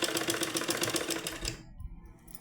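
A sewing machine stitches piping with a fast, even mechanical rattle for about a second and a half, then cuts off abruptly, followed by faint handling noises.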